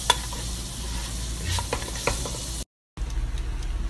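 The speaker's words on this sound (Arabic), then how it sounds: "في القدر شوية زيت وأضفت البصل، حشوحه" Onions sautéing in a little oil in a pot, a steady close sizzle with scraping stir strokes; the sound cuts out briefly near the end, then the sizzle resumes.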